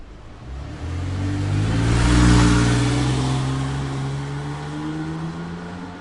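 A sports car drives steadily, its engine humming and swelling to a louder peak before easing off slightly, a continuous mid-pitched motor drone heard alone with no talking.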